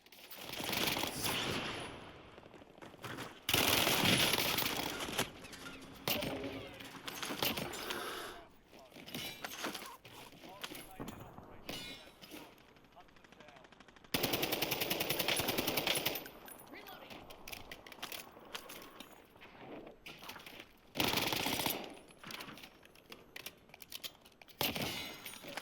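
Mac 10 submachine gun fire in a first-person shooter video game, loud rapid automatic bursts repeating across the clip, with someone talking over and between the volleys.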